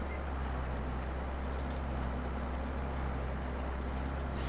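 A tractor engine in Farming Simulator 22 drones with a steady low rumble, the strongest tractor on the farm running continuously at a constant pace with faint wind-like hiss above it.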